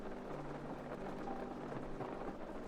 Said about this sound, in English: The thunder noises? I'm sorry. Is the rain too loud,